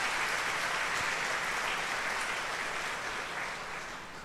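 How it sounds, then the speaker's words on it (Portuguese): A church congregation applauding during a Holy Thursday Mass, a broad even wash of clapping from many hands in a reverberant space that slowly fades toward the end, with no voices over it. "Então dá mais uma salva de palmas para Jesus."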